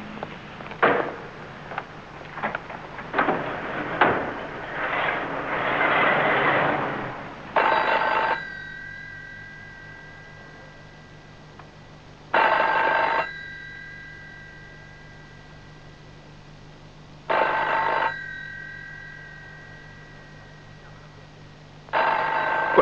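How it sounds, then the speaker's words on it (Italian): An old telephone bell rings in three long repeated bursts, loud and alone, a few seconds apart, after a stretch of louder mixed noise, in a 1935 Paris film scene. "Telefono chiama da 10 minuti."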